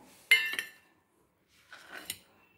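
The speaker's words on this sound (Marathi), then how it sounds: "हा कांदा, कोथिंबीर आणि हिरवी मिरची हे सगळं पहिले मिक्स करून घेते।" A metal spoon clinks and scrapes in a bowl while onion, coriander and green chilli are mixed, two short clattering bursts separated by a quiet pause, close and fairly loud.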